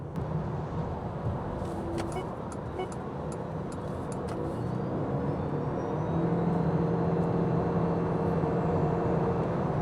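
A 2026 Nissan Rogue crossover with electric propulsion accelerates hard in power mode, its drive sound rising and growing louder under steady road and tire noise, with no talking.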